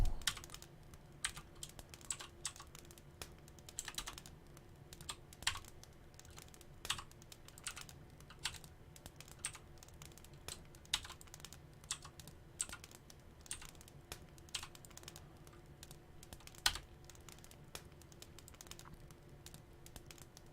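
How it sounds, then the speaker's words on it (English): Fast typing on a computer keyboard during a Gothic 2 game session, with quick irregular clicks and occasional heavier key strikes over a quiet background hum, close to the microphone. "If I type too fast, the inputs don't go through."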